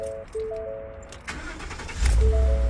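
A Ford F150 with a newly replaced starter cranks briefly and quickly fires up, the engine catching with a rising rumble and settling into a steady idle, heard up close alongside a warning chime.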